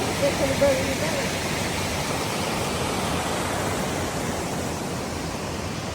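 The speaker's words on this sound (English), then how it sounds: "That is Glencar Waterfall." Glencar Waterfall in Ireland pours with a steady, dense hiss of falling water, a constant broadband rush throughout, while a brief voice is heard near the start.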